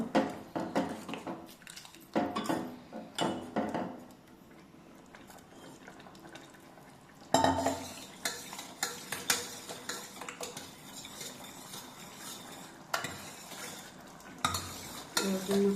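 Cooked lentil dal for soraka sambar mashed with a ladle in a pot, uneven wet scraping and clinking strokes in bursts with a quieter pause in the middle, no one speaking.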